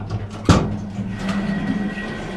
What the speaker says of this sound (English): Can you hold the doors a minute, Mike?